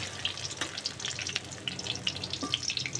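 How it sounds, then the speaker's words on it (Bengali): Hot oil crackles and spits steadily around frying cabbage, a close, continuous sizzle with dense bright pops and no talking. "তো ভালো করে লাল লাল করে ভেজে উঠে নেব।"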